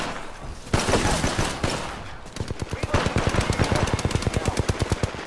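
Heavy automatic gunfire from the video game Apex Legends: a scattered early burst, then a long, steady rhythmic string of loud shots, close and dominant throughout.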